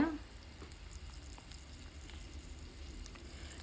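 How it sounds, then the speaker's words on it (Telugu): Large onion pieces frying in a pan, a steady soft sizzle that holds evenly throughout, fairly quiet and without talk. "ఒక ఉల్లిపాయని పెద్ద ముక్కలుగా కోసుకొని వేసుకొని వేగించుకోవాలి"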